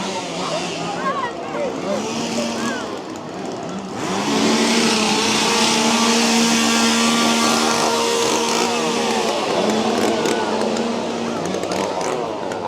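Chainsaw engines rev and whine at a Six Flags Fright Fest scare zone, a loud sustained buzz that swells and holds steady near the middle, mixed with crowd noise and people talking nearby.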